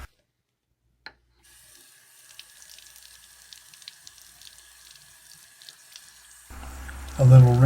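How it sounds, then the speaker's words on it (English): A chrome-finish tap runs water to rinse baking soda off the fixture: a click, then a steady, moderately quiet stream of running water, with a louder gush and splashing near the end. "A little rinse, and I'll tell you, it seemed to work pretty good."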